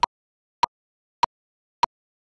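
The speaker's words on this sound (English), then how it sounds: "A metronome or a click is a tool that can do that for us." A metronome ticks four sharp, evenly spaced clicks at 100 beats per minute, crisp and isolated with silence between them.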